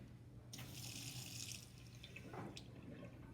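Tap water runs into a sink for about a second while a laboratory temperature probe is rinsed, a steady broadband hiss that starts abruptly, then gives way to quieter trickling and a short splash.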